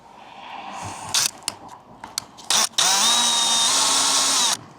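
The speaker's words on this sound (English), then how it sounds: "Let's see if we can drill in again" A power drill bites into a campervan panel nearby, a few short trigger bursts followed by a longer steady whining run that winds down, loud and close.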